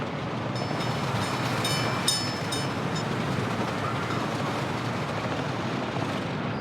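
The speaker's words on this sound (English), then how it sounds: "This is the new train for the Vasistavi." A new train running in the Workers & Resources video game gives a steady, continuous rumbling roll with faint metallic rattles, loud and close throughout, with no talk.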